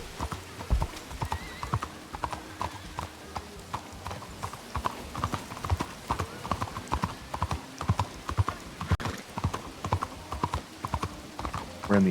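Horse hooves clip-clop steadily and quickly through a video game western town for the whole stretch, a loud, even rhythm of hoof strikes with the occasional faint whinny.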